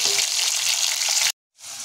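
Potato pieces frying in hot oil, a loud hissing sizzle close up that stops abruptly for a moment and then swells back.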